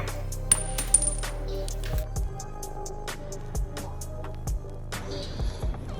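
A metal wrench dropping out of a Bronco engine bay, clattering in a few sharp metallic bounces near the microphone before settling into quiet ringing.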